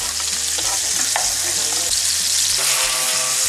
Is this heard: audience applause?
no